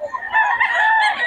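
A rooster at an outdoor Bocaue market gives a single short, loud crow lasting about a second.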